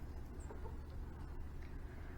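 Soft clucks from chickens kept with Muscovy ducks, faint and distant under a steady low rumble of background noise, with no talk.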